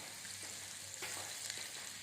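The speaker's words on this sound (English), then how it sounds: "now I will melt the butter, and I will put the butter in the pan" Butter melts in a pan over a small flame for nougat candy, giving a soft, continuous hiss and crackle with faint scattered pops.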